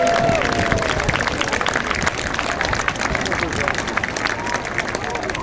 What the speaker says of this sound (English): Swansea give the synchro pair a massive round of applause.